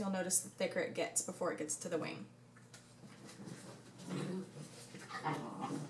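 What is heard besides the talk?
dogs playing with each other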